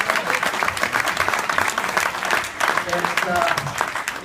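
A round of applause from attendees at a class reunion gathering honoring a former deputy mayor, steady clapping throughout with faint voices mixed in.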